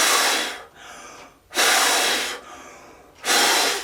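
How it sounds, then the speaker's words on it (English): Forceful puffs of breath blown out as a clarinet warm-up: three loud, close bursts of rushing air, each swelling and tapering, separated by brief quieter gaps. "doing puffs of air like I'm doing now, it's a great warm-up for clarinet playing"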